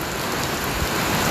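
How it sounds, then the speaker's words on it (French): Heavy rain pours down steadily and loudly, a dense close wash of drops on surfaces with no pauses and no voices. "Parce qu'il pleut fortement ici."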